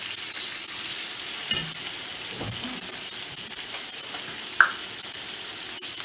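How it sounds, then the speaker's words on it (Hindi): Chicken sizzles and fries in a little olive oil in a pan, a constant crackling hiss with occasional stirring scrapes and one brief clink, no talking. "पैन में थोड़ा सा ऑलिव ऑयल, और इसमें जो चिकन हमने डाला है वो डालना है"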